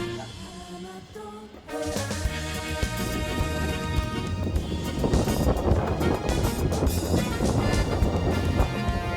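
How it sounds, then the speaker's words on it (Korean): Strong winter wind gusts across the Sogeumsan suspension bridge in Wonju, a broad, loud rushing roar that swells after a quieter start and keeps buffeting. "겨울바람이 세차게 불어오고요"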